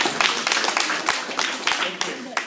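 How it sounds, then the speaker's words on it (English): A school audience claps for a guest speaker at a coding session, with a ragged rhythm of distinct, fairly close hand claps from a modest group and some murmuring mixed in. "let's have a big round of applause for Hanoi"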